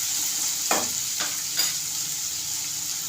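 Chopped onions frying with a little salt in a pan as they brown, a constant crackling sizzle with a few brief stirring scrapes, close and without talk.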